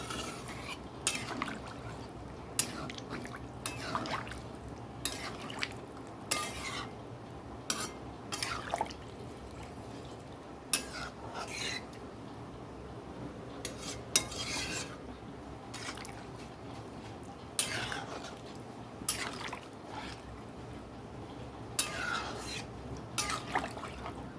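Potatoes in a masala boiling in water in a pot at home, faint bubbling and sporadic popping drips scattered over a quiet background, with occasional soft clinks.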